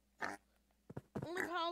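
A Minecraft pig gives short oinks and grunts, a couple of brief bursts followed by a longer squealing call, close and clear against quiet game background.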